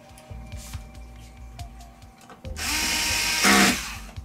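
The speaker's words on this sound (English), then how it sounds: "I'm actually gonna put two screws back in down in here to hold the TCON board secure" A power screwdriver drives two screws back in to secure the TCON board of an LG 55LN5200 55-inch LED TV, a close whirring burst after light clicks and handling noise, rising in pitch near the end before cutting off.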